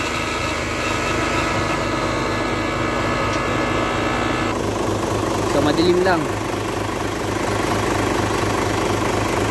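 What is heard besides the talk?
truck diesel engine idling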